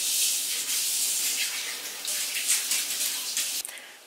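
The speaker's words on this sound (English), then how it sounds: "washing his hands." Water runs steadily from a tap as someone washes their hands, a close, constant hiss broken by small splashes and shifts in the flow.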